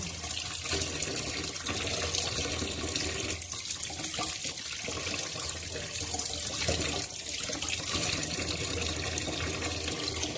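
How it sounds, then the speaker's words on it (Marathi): Mackerel (bangda) fish rinsed under a running kitchen tap, with a continuous close splashing rush of water throughout. "आपण छान असे बांगडा मच्छी स्वच्छ असे धुतलेले आहे"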